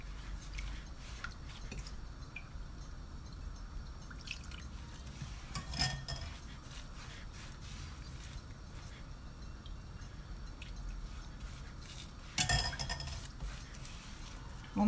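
A utensil works sauce through a dish of tikourbabine (asbane), giving soft wet clinks and scraping with a couple of sharper knocks near the start, the middle and the end, all quiet and close with no talking.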